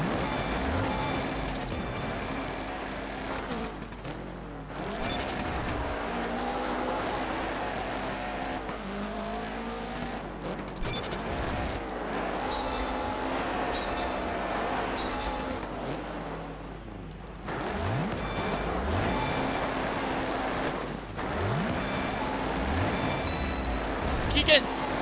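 A rally car in the video game Dirt 3 spins donuts, its engine revving and dipping in repeated waves with tire squeal, loud and continuous while a voice talks over it.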